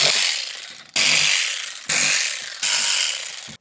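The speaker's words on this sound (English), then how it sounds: "Now I'm gonna go ahead and pop off these 10 mil bolts." A power tool spins out 10 mm bolts on a C5 Corvette shifter in four close, loud bursts, each sharp start trailing off before the next.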